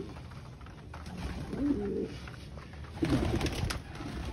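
Chinese chicken cross-breed pigeons coo in a soft, low, throaty burble. Two nearby bouts of cooing rise over a steady background hiss.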